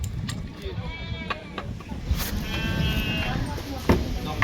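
Ewes and lambs bleat at a livestock market in Kyzylorda, with several calls rising over a busy outdoor murmur while people talk nearby.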